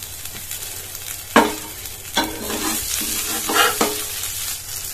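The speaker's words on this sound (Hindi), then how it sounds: "अब इसे एक तरफ से सिकने देते हैं, उसके बाद इसे पलट देंगे।" A burger patty sizzles in a pan, a constant close frying hiss broken by a few louder scraping bursts as it is moved or pressed, with no one talking.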